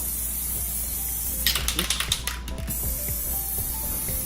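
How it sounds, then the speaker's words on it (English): Spray paint in blue and green hisses onto water for hydro dipping Nike Air Force sneakers, in a quick run of short bursts in the middle after a quiet start. "I'm done spray painting the water"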